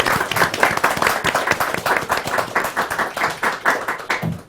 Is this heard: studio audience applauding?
yes